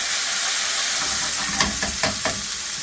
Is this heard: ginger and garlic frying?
yes